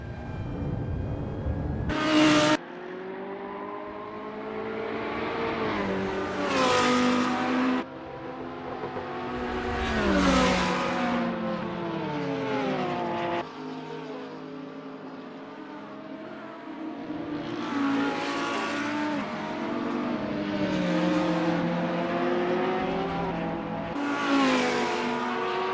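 GT3 race cars, including a Ferrari 488, lap Misano World Circuit in Assetto Corsa, engines revving and shifting through gears in repeated rising sweeps as cars pass close by, loud and continuous with no talking.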